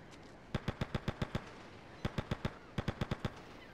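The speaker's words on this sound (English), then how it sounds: "Oh, I'm being shot at again for once." Gunfire in the video game Grand Theft Auto: Liberty City Stories comes as three quick bursts of sharp, evenly spaced shots, each burst several rounds long, clear and upfront over faint background noise.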